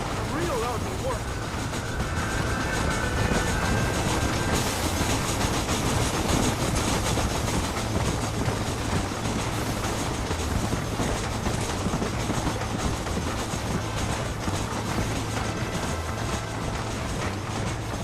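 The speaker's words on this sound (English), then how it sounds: "There is a train." A train runs in Red Dead Redemption on PS3, a steady rumbling roll with faint rhythmic rail clatter that carries on without a break.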